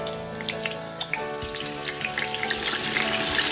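Oil sizzles and crackles in a hot pan for a Burmese coconut milk noodle soup, a close, continuous frying hiss dotted with sharp pops.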